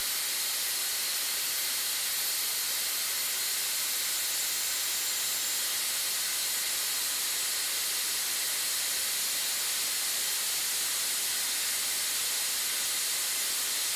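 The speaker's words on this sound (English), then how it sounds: "we see the valve reach its set point and pop open" A pressure relief valve, open at its set point, vents in a loud, steady, broadband hiss that holds unchanged throughout with no pauses.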